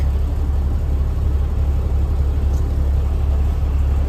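The engine of a 1998 Freightliner FL60 truck idles steadily up close, a constant low rumble with an even drone and no changes in pace.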